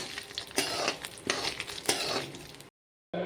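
Whole cardamom pods, coriander seeds and cumin being mixed together, heard as three close, gritty bursts of rustling and scraping, followed by a moment of silence before the sound starts again.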